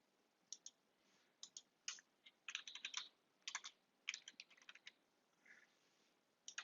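A computer keyboard clicks as a host name is typed, with faint, close keystrokes arriving in irregular clusters and brief pauses between them, no voices.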